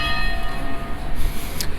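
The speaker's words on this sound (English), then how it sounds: "There is a church called Saint Clotilde, and that's the bell that you hear." The bell of Saint Clotilde church in Paris rings distantly, its faint tone nearly buried in loud street traffic rumble, with a brief brighter strike near the end.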